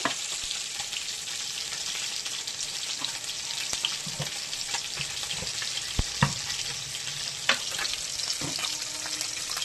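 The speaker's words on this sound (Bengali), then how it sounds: "এই যে কড়াইতে তেল দিয়ে দিলাম বন্ধুরা। এর মধ্যে এবার ফোড়নও আমি একে একে দিয়ে দেবো" Spices for spinach temper in hot oil in a wok with a continuous bright sizzle and crackle, dotted with sharp pops and occasional stirring clinks, no talk.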